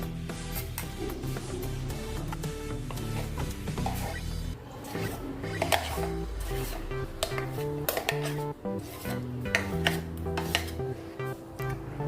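Smooth batter is scraped and poured from one vessel into a bowl, with repeated clinks and scrapes of spoon and metal utensils against the dishes, close and continuous, with no talking.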